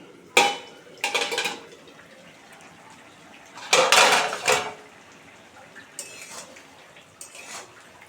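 A lid lifts off a cooking pot of puti fish with potato and okra, giving a few close metallic clanks and scrapes in short bursts separated by quiet gaps.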